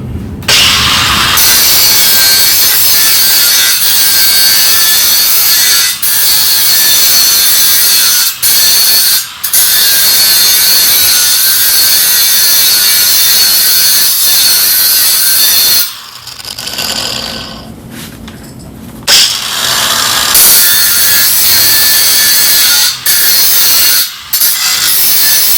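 A saw carving an edge into wood in a budget welding workshop, loud and close, with steady rasping strokes that run on for long stretches and pause briefly a few times.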